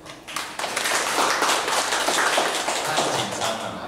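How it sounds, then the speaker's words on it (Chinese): An audience at a lecture or panel bursts into applause, a dense run of many hands clapping that swells quickly and holds steady, close and fairly loud. "大家热烈掌声一下"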